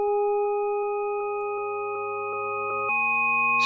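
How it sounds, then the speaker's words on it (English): Steady pure electronic sine-wave test tones hold for several seconds, then shift to a lower set of pitches near the end. "So here I've got fundamental, some sine waves"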